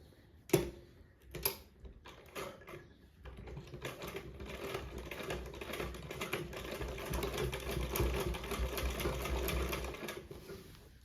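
A sewing machine runs steadily, stitching small fine stitches along the edge of a blouse neck cross piece. Two short bursts come first, then a continuous close run that lasts most of the clip before stopping.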